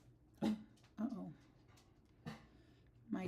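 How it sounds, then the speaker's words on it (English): A pet dog at home gives a few separate, muffled barks and yelps, spaced about a second apart, fairly faint and indoors. "my dog's barking, which she tends to bark on my live streams all the time"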